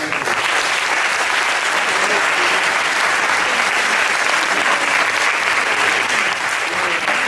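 Dense, loud audience applause fills the hall at a meeting, a sustained even roar of many hands clapping without pause from start to finish, with no speech over it.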